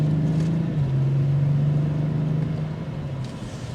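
Steady, smooth drone from a 2024 BMW 840i convertible's inline six-cylinder twin-scroll turbo engine, held at an even pitch in sport mode, with a slight drop in tone early on and no voices.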